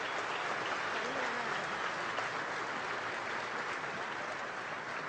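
An audience gives a sustained burst of applause at the inauguration of La Radio del Sur in Caracas, a dense even wash of clapping from a large crowd that holds steady throughout, slightly distant.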